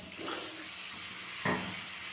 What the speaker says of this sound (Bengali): একটু জল দিয়ে দিলাম যাতে করে মশলাটা পুড়ে না যায়